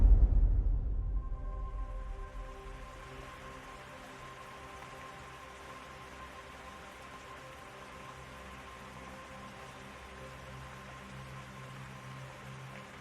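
A rain sound effect played during a livestream, a steady even hiss of falling rain that starts with a louder burst and settles into a constant wash, with no voices.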